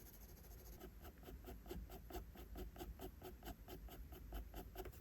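A pencil shades on paper in quick, even back-and-forth strokes, faint and close, keeping up a steady rhythm of about four scratches per second.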